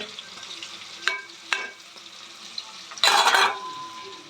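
Onion, ginger and garlic paste frying in a pan, a steady sizzle with a few sharp clinks of the spoon against the metal and a louder burst of hissing as it is stirred.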